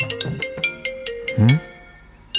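A mobile phone rings with an incoming call, playing a bright, repeating electronic melody of quick tonal notes, clear and close, with no one speaking over it.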